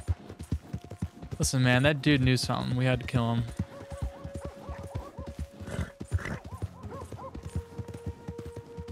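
Horse in the video game Red Dead Redemption 2, hooves clip-clopping in a loose rhythm with a brief whinny, heard alongside someone talking loudly over the game sound.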